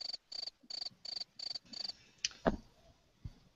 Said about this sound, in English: That's just crickets.